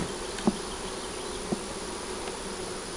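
A constant insect buzz of many honeybees at an opened hive, steady and close, with a couple of brief soft knocks standing out.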